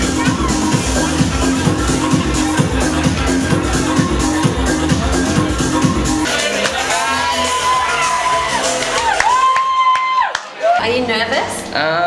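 A club crowd at a breakbeat DJ night: a pounding beat plays first, then the crowd breaks into loud whoops, shouts and cheers with voices mixed in.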